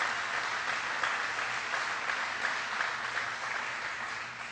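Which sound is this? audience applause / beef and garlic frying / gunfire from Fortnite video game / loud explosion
audience applause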